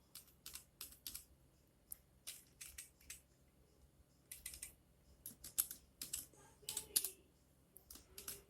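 Keys clatter on a computer keyboard as C code is typed, bursts of quick close clicks with short pauses, steady and fairly quiet with no talking.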